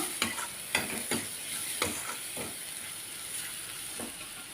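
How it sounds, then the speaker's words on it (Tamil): Small onions sauté in a salted pan with a continuous close hiss and sizzle, punctuated by a handful of sharp spoon scrapes and clinks as they are stirred, with no voices. "இப்போ வெங்காயம் நல்லா வதங்கட்டும்"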